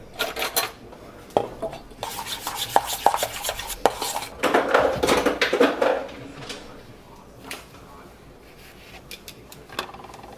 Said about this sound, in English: So we got our slaw, and we got our peppercorn sauce. Give that a little stir.